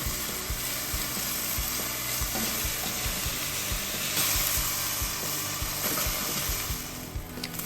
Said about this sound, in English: Heat a couple of tablespoons of oil in a pan and begin to sear the meat.